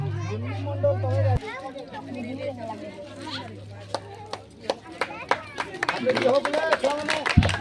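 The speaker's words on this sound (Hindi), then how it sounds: "जोरदार ताली मारवा ले" Children clap in scattered, uneven bursts at an Independence Day celebration in Hirakud, with a voice over a microphone and children's chatter, the claps growing denser toward the end.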